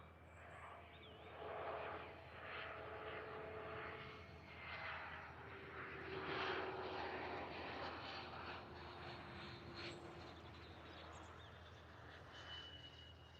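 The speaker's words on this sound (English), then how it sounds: "Oof, a bit rough that landing, to be fair." A plane lands at Liverpool Airport in a somewhat rough touchdown. The engine rumble is fairly faint and distant, rising and falling gently throughout with no talk.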